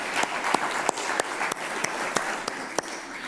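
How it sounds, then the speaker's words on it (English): Audience applause for leaderboard winners at an EU Missions oceans and waters event, a steady wash of clapping from a modest crowd with a few sharper nearby claps standing out, moderately distant and even throughout. "Round of applause for you."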